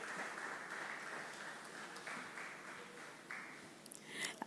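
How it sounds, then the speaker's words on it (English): A faint, distant round of audience clapping at a panel session on licensing and policy in Nigeria, sparse and low in level, with a few louder bumps near the end. "A round of applause for him as he comes forward."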